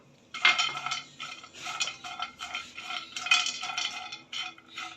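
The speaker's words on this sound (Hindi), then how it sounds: "ये तीनों चीज़ें मैं इसके अंदर डाल दूंगी और हम इसको हल्का हल्का रोस्ट कर लेंगे।" Pistachios are stirred in a pan as they dry-roast for suji panjiri, a spoon scraping and clinking against the metal in irregular bursts, close and moderately loud with no talking.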